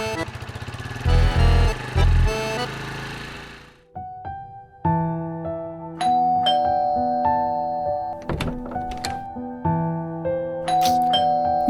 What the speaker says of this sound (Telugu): కాలింగ్ బెల్ వినిపించట్లేదా?